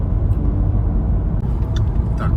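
A 2020 Renault Talisman Initiale Paris cruises along an open road, its low steady rumble of engine and tyre noise filling the cabin, constant and close with no talk.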